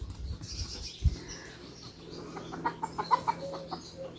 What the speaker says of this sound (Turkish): Tavuklar korkuyor.